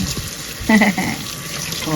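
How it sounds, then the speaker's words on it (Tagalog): Tap water runs into a sink as tomatoes are washed under it, a fairly close splashing flow with a brief louder gush near the middle and handling knocks. "Hugasan natin ng mabuti ang ating mga kamatis."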